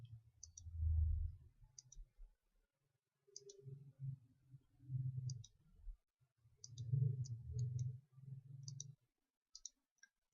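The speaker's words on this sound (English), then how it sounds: "Click Shift at the keyboard and then click at the mouse on each object." Computer mouse clicks while objects are selected in a presentation program, sharp light clicks in small clusters spread across the stretch, with low background rumble between them.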